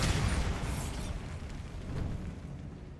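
The Bombarda blast spell detonates in Hogwarts Legacy, a loud explosive boom that rolls off into a fading rumble with a second swell before dying away.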